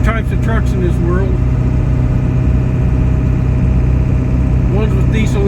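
Steady, close idle of a diesel truck with a 4-inch pipe from turbo to tailpipe, a deep even rumble running throughout beneath a voice at the start and end.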